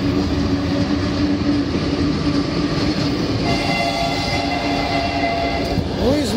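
A train rolls steadily past a railway crossing in Ukraine, a loud, continuous rumble of wheels with a horn and tonal sounds rising near the end.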